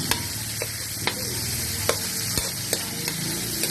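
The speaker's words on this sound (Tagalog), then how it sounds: "Gisa po ako ng sardinas." Sardines sautéing in a pan for a Kapampangan dish with bitter gourd leaves, a loud continuous sizzle punctuated by sharp clicks of a utensil scraping and stirring at irregular intervals, with no talking.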